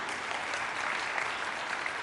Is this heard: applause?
yes